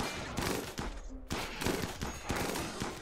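Bursts of gunfire from a colony firefight in the video game Rimworld: several loud, rapid volleys separated by brief gaps, with no talking.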